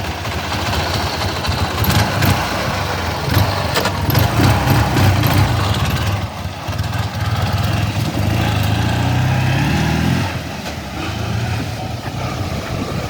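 An old, rough Ural motorcycle engine with good compression runs steadily nearby, a loud continuous idle with a low throbbing beat that dips briefly and then drops in pitch near the end, with no talk.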